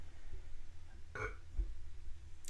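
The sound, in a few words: burp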